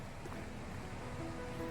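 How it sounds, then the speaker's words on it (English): Running water outdoors at the bottom of a slope, a steady soft wash of flowing water heard from a distance, continuous and fairly faint, with no talk over it. "There is water down here. Just listen."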